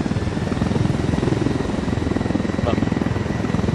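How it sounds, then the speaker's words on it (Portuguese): Helicopter in the video game Ghost Recon Wildlands, a loud, steady rotor thump with rhythmic chopping pulses throughout. "esse helicóptero preto laranja é muito tesudo"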